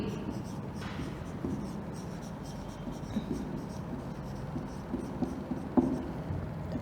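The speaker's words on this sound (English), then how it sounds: "So I just write this on the board." Chalk or marker writing on a classroom board during an English grammar lesson, steady faint scratching strokes that run on with a few sharper taps, fairly close and with no voice over it.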